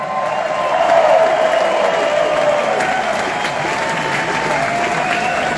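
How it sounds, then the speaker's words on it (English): Concert audience at a Hendrix tribute show in Shreveport, Louisiana, applauding loudly with scattered cheers and whistles, a dense steady wash of clapping that holds throughout with no speech over it. "So give them a round of applause just for that."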